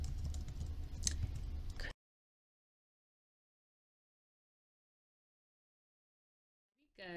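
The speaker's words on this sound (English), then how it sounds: "type in our message" A computer keyboard clatters briefly for about two seconds of dense typing, then the sound cuts to silence until a short unrelated noise at the very end.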